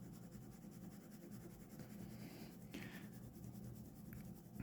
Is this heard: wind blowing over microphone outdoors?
no